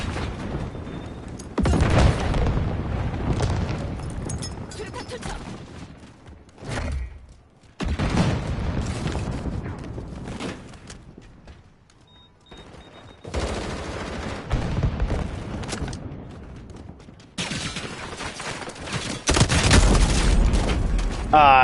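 Gunfire from the Modern Warfare beta video game on PS5, loud bursts of rapid shots and booming hits in several long stretches separated by short quiet gaps.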